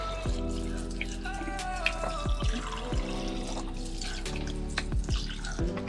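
Cold water running from a tap at a college campus, a steady, fairly quiet trickle with scattered drips and splashes, heard alone without talk.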